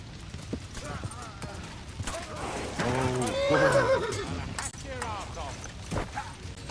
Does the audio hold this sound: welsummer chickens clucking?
no